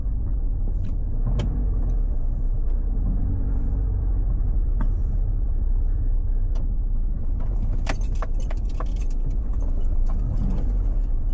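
Low, continuous rumble of cars moving through a downtown Vancouver back alley, heard at a moderate distance with scattered clicks and small metallic clatters and no talking.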